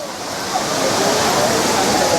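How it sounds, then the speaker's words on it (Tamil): Heavy water crashing down the main falls at Courtallam, a steady, dense roar filling the whole clip without breaks, close and loud. "அருவியில் மிதமாக தண்ணி கொட்டுது ஸோ ரொம்ப நல்லாயிருக்கு சீசனு"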